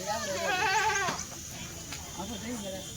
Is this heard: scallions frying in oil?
no